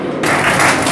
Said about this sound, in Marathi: एकदा सर्वांनी त्यांच्यासाठी, त्यांच्या भावी जीवनासाठी जोरदार टाळ्या द्याव्यात